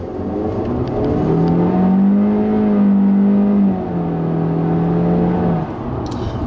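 A 2016 Honda Civic Coupe Touring with a 1.5-liter turbocharged direct-injection engine drives along, its engine note rising steadily under acceleration, easing off briefly, then pulling again over a constant road and tire rumble.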